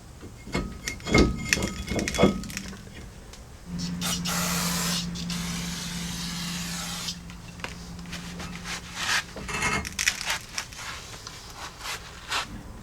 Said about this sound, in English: So I'm going to do both sides and clean that up with some brake cleaner.